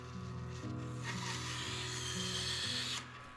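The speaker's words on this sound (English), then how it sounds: "Then I rough cut the curve of the heel before working on the fit of the mortise and tenon." A power tool rough-cuts the curved heel of a wooden acoustic guitar neck, a steady close grinding whir with a rasping edge that cuts off near the end.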